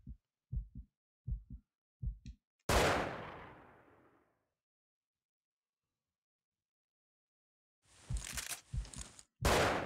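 Rifle shot at a moose in the hunting game Cabela's Dangerous Hunts: a sharp, loud crack with a long decaying tail, preceded by several soft thumping beats and followed after a pause by further loud bursts.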